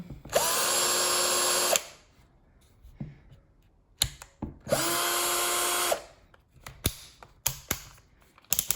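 A Tech.AS TAOE-CD33 cordless screwdriver with a 2 Ah battery runs free in two bursts of about a second and a half each, a high whirring motor whine, with clicks and handling knocks between and after.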